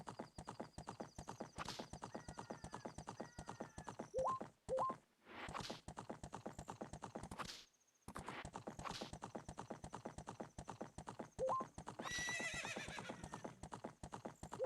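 Steady clip-clop of horse hooves from the Legend of Zelda: Ocarina of Time game, running nearly the whole time in an even rhythm, broken by a couple of short pauses and a loud whinny near the end.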